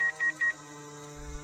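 A telephone being dialed in a dramatized Hindi horror story, three quick electronic keypad tones in a row, followed by a sustained tonal hum.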